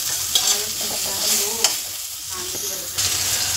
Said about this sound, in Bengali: ওই তেলে আমি লম্বা করে কেটে রাখা যে বেগুনগুলো আছে, এগুলো সব দিয়ে দেবো। এটাও লাল করে ভেজে তুলে নেবো